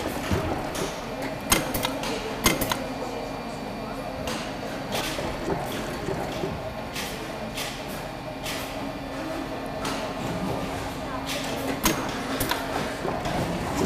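An industrial sewing machine needle punches through rubber and polyurethane on a motorcycle race suit, giving a quiet irregular series of sharp clicks and taps over a low background hum.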